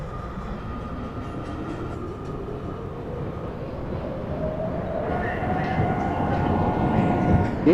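A New York City subway train, a 7 local, rumbles steadily along the track with a rising whine and screech as it moves, growing louder over several seconds, with faint voices in the background.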